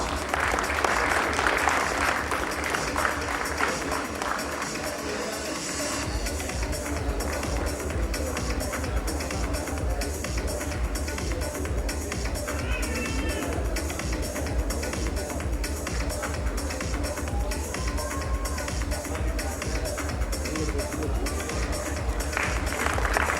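An audience at the Rorschach film success celebration applauds steadily for the whole stretch, a dense, even wash of many hands clapping in a large hall, with faint voices and stage sounds mixed in.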